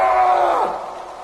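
A man's drawn-out scream in a horror story, loud and echoing, tapering into a groaning fall and reverberant tail.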